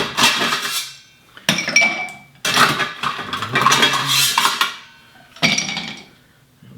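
Ice cubes clatter and clink into a glass or shaker for a whisky cocktail, in several loud separate bursts with brief pauses between them.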